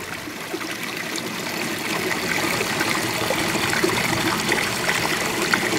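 Water flows steadily through a gold-prospecting hydrodynamic model, with a continuous close trickling and streaming wash of moderate loudness and no voices over it.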